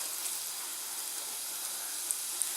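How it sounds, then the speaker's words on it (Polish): Thin pieces of white chicken meat frying slowly in a pan over low heat, a soft, even hiss of sizzling fat with a couple of faint pops near the end. "Mięsko jest białe, ma się usmażyć na wolnym ogniu."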